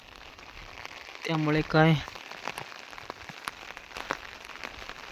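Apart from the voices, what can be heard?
rain still falling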